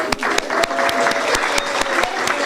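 An audience at a Rotary Club volunteer luncheon claps fast and steadily, with sharp individual hand slaps standing out over a dense patter throughout.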